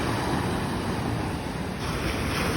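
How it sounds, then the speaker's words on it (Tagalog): Ocean waves wash onto the shore at sunset as a steady, dense roar of surf mixed with wind buffeting the microphone, with no voices. "Alon, hindi masyadong malaki."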